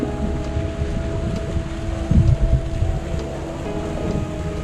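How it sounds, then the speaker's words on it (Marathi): Water pours down Devkund waterfall, a constant rushing roar mixed with wind buffeting the microphone, with a louder gust-like swell in the middle. "या साईडला देवकुंडवरनं खाली पाणी पडतं"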